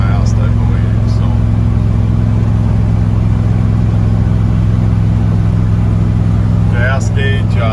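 A truck cruising down a road at about 65 mph produces a steady, loud engine drone and road rumble throughout, with a faint brief voice near the end.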